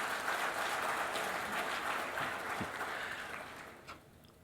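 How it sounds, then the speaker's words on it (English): Audience applause at a technical seminar's opening session, a broad steady patter of many hands that slowly thins out toward the end, with no talking over it. "I request all of you to give a big applause."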